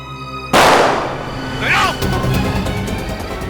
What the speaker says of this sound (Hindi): सीआईडी ऑफिसर पर गोली चलाई